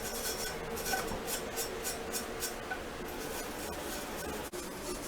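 Steady wire-brush scrubbing on a universal joint, a continuous close rasping with rhythmic strokes and a brief dip near the end, no talking.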